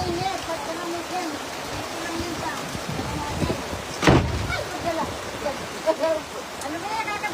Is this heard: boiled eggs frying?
no